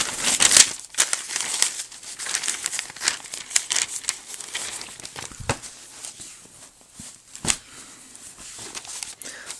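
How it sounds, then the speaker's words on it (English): A paper notebook page flipped over, with crinkly rustling and scattered soft paper handling noises at close range and no talk. "I'm actually going to flip the page over"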